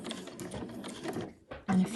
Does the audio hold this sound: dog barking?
no